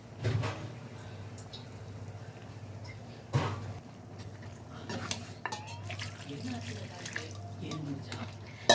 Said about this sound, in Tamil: நம்ம குழம்பு எந்த அளவுக்கு வேணுமோ அந்த அளவுக்கு நம்ம வந்து தண்ணி சேர்த்துக்க போகிறோம்